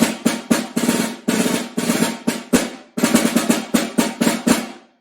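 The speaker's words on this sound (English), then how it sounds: "if I put the snares on, it has that characteristic snare drum sound" A snare drum with its snares engaged is struck in quick bursts and short rolls, each hit carrying a bright, buzzing rattle; the playing is close, loud and continuous for several seconds with brief gaps between phrases.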